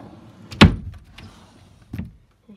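A bedroom drawer is pulled open with one sharp knock and a short slide, then a second softer bump as it stops, in a quiet room with no talking.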